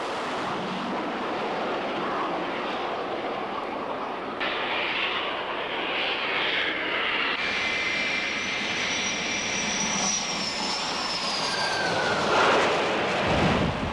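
A carrier-based airplane, an E-2C, is hurled off the forward flight deck of an aircraft carrier by a catapult, reaching about 160 mph in 2.5 seconds. A loud, steady jet and engine roar fills the clip, with a rising whine and wind-like rush toward the end.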